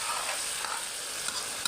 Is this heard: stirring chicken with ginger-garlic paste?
yes